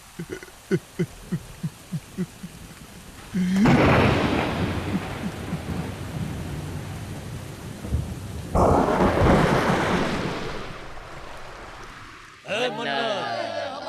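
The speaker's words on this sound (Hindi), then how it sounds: "बारिश हो गई, बारिश हो गई।" Rain and thunder: a heavy downpour hiss swells in twice, each surge carrying deep rumbling thunder, after a few sharp opening knocks, with a voice-like sound near the end.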